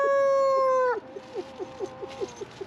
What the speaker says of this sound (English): You gonna say something, Mr. Rooster?